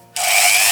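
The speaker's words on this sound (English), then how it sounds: "Dremel." A Dremel rotary tool starts abruptly and holds a high, steady whine while drilling holes in small box parts for a miniature diorama, close and loud with no talk.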